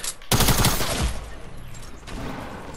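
Tac SMG gunfire in a shooter video game: a loud rapid burst of submachine gun shots close up lasting about a second, followed by quieter scattered shots and game noise.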